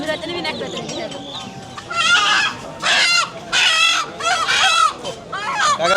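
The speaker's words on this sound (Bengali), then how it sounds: "মুরগিটা তো অনেক তেজ" Chickens cluck loudly in repeated bursts at a village livestock market (the Meghula haat in Dohar), close by, with voices and crowd noise around them.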